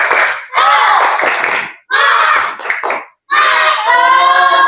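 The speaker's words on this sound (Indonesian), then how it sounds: "Tepuk semangat." A class of schoolchildren shouts out a rhythmic spirit cheer in loud group bursts, with chanted voices and claps coming in three energetic phrases separated by short pauses.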